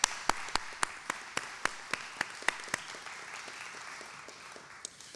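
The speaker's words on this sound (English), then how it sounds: "Let's give them also a hearty round of applause." A hearty round of applause at a celebration for SSM Health St. Louis University Hospital, where a few loud, distinct claps ring out in a regular rhythm over a softer, steady bed of crowd clapping that gradually thins.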